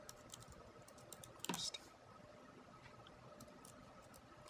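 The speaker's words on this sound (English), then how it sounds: "So let me go ahead and type in Christy first." Rapid, quiet computer keyboard typing with light irregular key clicks and one brief louder burst of keystrokes, in a near-silent room with no voices.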